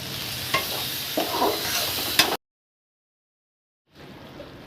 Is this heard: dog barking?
no